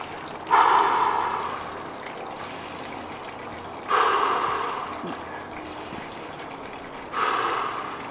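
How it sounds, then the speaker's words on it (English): Deep breathing during an at-home workout stretch: three slow, loud, breathy exhalations spaced a few seconds apart, each fading away, close to the mic with no talk over them. "take 3 more deep breaths"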